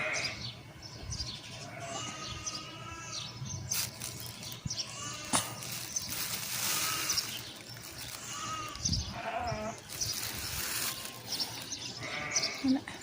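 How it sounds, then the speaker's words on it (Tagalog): Wild goats and sheep in rural Saudi Arabia bleat intermittently at a distance, the calls rising over a low outdoor background with chirping birds and occasional faint talk. "Ayan yung mga tupa. Ay yung mga kambing, mga ligaw."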